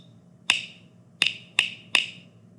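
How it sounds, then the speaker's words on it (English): A woodblock tapped in a short rhythm: four sharp, bright, dry knocks, one alone and then three closer together, near and clear over a quiet room. "I'm going to go ahead and play it on a woodblock."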